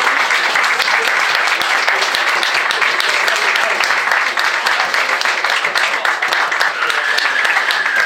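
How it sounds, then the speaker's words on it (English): Applause at a sports club presentation evening, a steady, loud wash of many hands clapping together without a break, with faint voices underneath. "Round of applause, please"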